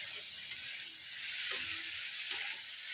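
Jalpai dal sizzles steadily in a pan while a spoon stirs it, with a soft continuous frying hiss and a few faint scraping clicks, with no voices.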